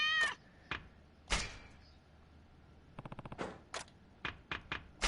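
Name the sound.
cat meowing in video game Ishin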